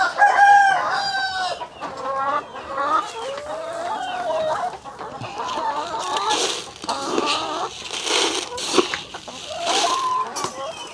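Dominant CZ pullet chickens cluck and call busily at a morning feeding, a dense, close flock sound that runs without a break, with a voice speaking now and then underneath.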